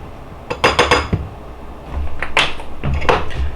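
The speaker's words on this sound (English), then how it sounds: "So I'm gonna mix this up in here." Chaffle batter with cinnamon being mixed in a bowl, a quick series of clinking utensil strokes against the bowl, then a steadier scraping stir with more clinks, close and fairly loud.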